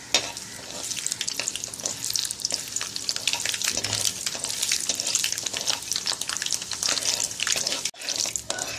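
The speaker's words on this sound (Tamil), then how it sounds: "கடுகு நல்லா பொரியணும்." Mustard seeds and urad dal spluttering in hot oil for Tamil tomato rice, a dense, steady crackle and sizzle of popping seeds close up, continuous throughout with a brief dip near the end.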